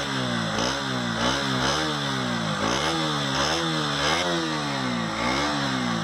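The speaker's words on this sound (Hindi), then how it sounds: "अब ये KTM Duke 125 का एग्जॉस्ट नोट।" A KTM Duke 125 motorcycle's exhaust note: a loud, close engine repeatedly revved up and dropped back in rising and falling surges over a steady idle, with no talking.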